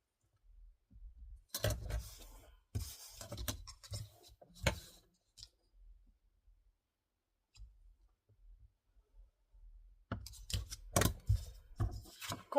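Scissors cut pieces of paper card for a Christmas box card, with crisp close snipping clicks in bursts separated by quiet pauses, a cluster early and another toward the end.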